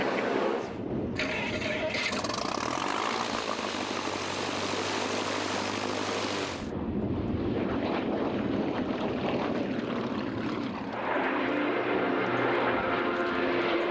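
A loud airplane engine roars steadily at the Oceana Air Show in Virginia, with wind buffeting the microphone. The drone briefly drops away, then returns.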